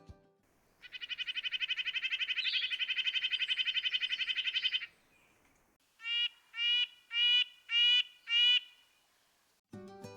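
Red-breasted nuthatch calls: a long buzzy trill, then five short nasal, evenly spaced notes, fairly close and clear against a quiet background, with no talk.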